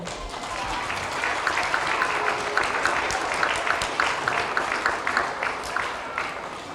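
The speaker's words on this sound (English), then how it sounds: "let's give our second graders another round of applause" School assembly audience applauding second graders at a Pre-K to 3rd grade character education event, a sustained even round of many hands clapping with a faint murmur underneath.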